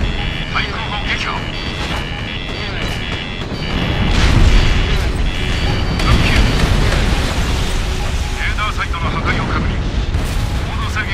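Explosion of a destroyed anti-aircraft gun in the Ace Combat Infinity flight game, Avalon Dam mission, a dense rumbling boom swelling midway over constant jet engine noise, with radio voices speaking throughout.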